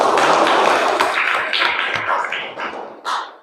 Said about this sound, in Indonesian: aplaus dulu dong untuk Yahizkil